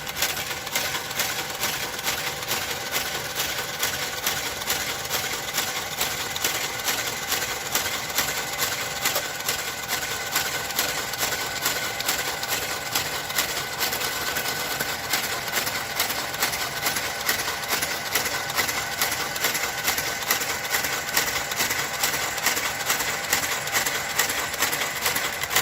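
A knitting machine carriage runs across the bed while knitting a jacquard blanket, a steady fast mechanical clatter that persists evenly throughout at moderate volume, with no talk.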